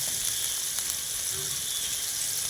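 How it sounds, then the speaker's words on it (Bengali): Chopped onion hitting hot oil already seasoned with green chillies and curry leaves for a spicy semolina snack, giving a steady, close, moderately quiet sizzle and hiss throughout, with no talking. "এরপর দিয়ে দিচ্ছি কুচনো পেঁয়াজ।"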